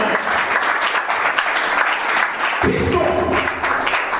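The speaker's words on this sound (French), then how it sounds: "Si tu acclames, acclame bien alors." A church congregation applauds loudly and continuously, the dense clapping holding steady throughout while a voice calls out briefly partway through.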